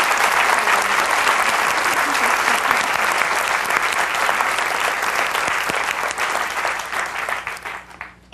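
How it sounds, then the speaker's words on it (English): An audience at a women tech executive roundtable claps loudly for the panelists, a full, sustained burst of applause that thins and fades near the end. "can we give a hand of applause to our panelists?"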